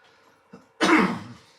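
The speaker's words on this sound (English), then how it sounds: "Sorry about the cough, it's been a bit harsh today." One harsh cough close to the mic, a short rough burst after a brief quiet intake, with faint background hum.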